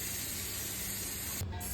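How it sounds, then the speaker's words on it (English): Steady, close hiss of running water spraying over strained rice in a strainer, a continuous even rush with a brief dip near the end. "I'm going to strain the rice. And then we are going to rinse it."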